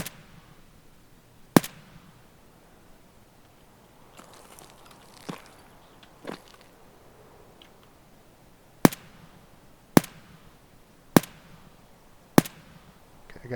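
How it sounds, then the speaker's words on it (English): Sniper rifle shots in the video game Escape from Tarkov: sharp, isolated cracks spaced a second or more apart, with softer thuds and faint movement between them and no talk. "So I'm gonna try to snipe him."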